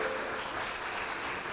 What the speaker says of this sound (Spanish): ¿Qué tal si le damos un fuerte aplauso a todos nuestros hermanos que están yendo?